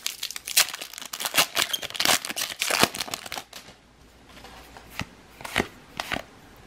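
Foil wrapper of a Magic: The Gathering Kaldheim booster pack being torn open and crinkled, a close, loud run of crackling tears and rustles that thins out into a few sharp separate crinkles, with no one speaking.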